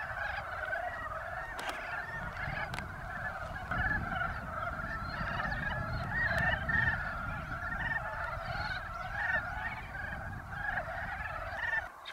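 Wood frogs and common toads calling from a wild pond, a dense, steady chorus of overlapping croaks and clucking calls that runs on without a break, fairly close and continuous, with no voices over it.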